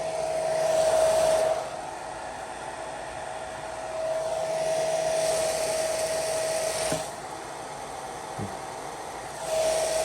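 A hair dryer blows warm air while hair is styled, a steady whirring hiss that swells louder and drops back several times as the airflow is moved toward the hair and away. It is close, and no one talks over it.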